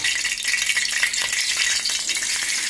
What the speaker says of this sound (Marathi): तातूंत आतां लसूण घातली